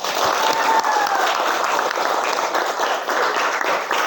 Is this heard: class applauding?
yes